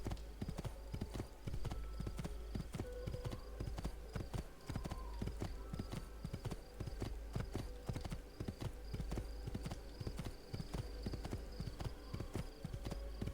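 Horse hooves clip-clop steadily and quickly through the kingdom in the video game Assassin's Creed 2, a continuous galloping rhythm with game ambience underneath and no talk.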